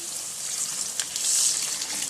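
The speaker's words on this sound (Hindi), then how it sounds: "एक कप पानी शामिल करेंगे," A cup of water is poured into sizzling spice masala with red chilli in a pan, a brief gushing, bubbling hiss that swells briefly and then settles.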